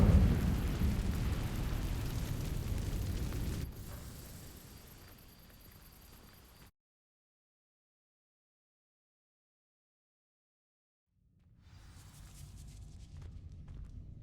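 A fire spell in the video game Hogwarts Legacy erupts in a loud, deep roaring whoosh that fades away into total silence, then faint game ambience and rustling return.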